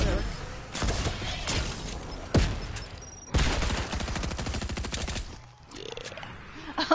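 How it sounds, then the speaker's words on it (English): A cosmic machine gun fires in Fortnite with loud, rapid bursts of close-range shots, several sharp blasts and a long sustained volley, with game effects in between. "cosmic machine gun"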